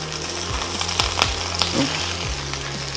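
Minced pork sizzles and chars in a hot pan, a steady dense crackling hiss with a few sharper pops, close and fairly loud throughout.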